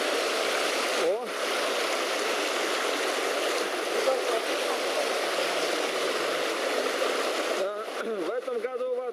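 A mountain stream near Yzyr-gala fortress in Turkmenistan runs high with a steady, full rushing of water. People talk close by over the flow.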